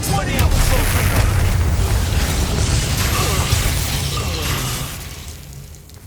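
Hogwarts Legacy combat, with Confringo and other spell blasts crackling and booming in a dense, loud wash. Bursts and pops layer over continuous noise that fades near the end, and a voice is partly audible.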